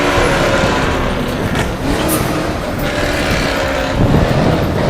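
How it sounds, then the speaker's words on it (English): A Chevrolet Camaro with an LS7 engine driving along an empty New York City avenue, a loud, rough engine roar with wind noise that stays strong for the whole stretch. "it sounds like something's going on with that Camaro"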